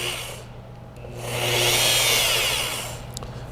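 Rotary car paint polisher running during paint correction, a steady motorized whine that swells louder mid-way then eases, heard alone without talk.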